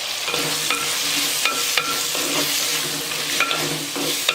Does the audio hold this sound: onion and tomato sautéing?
yes